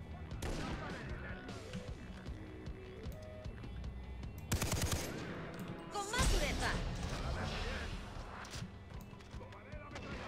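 Sustained machine gun fire in Far Cry 3 during co-op play, loud rapid bursts with heavy blasts mixed in, running nearly the whole time under excited talk from the players.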